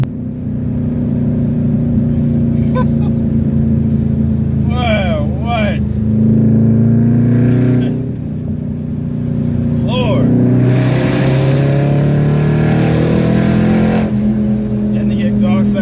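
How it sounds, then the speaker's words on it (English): Dodge Charger SRT8 with an upgraded exhaust accelerating hard, a loud sustained engine roar and rising drone heard from inside the car, with people talking and exclaiming over it. "And the exhaust sounds a little bit different."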